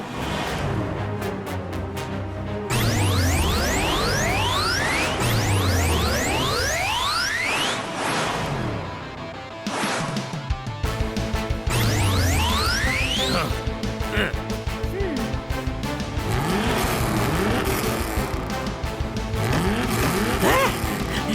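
Cartoon turbo speed car racing, a run of whooshing pass-bys and rising revving engine sweeps that repeat in quick bursts, loud and close, with a short pause midway before the racing resumes.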